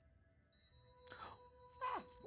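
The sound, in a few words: phone ringing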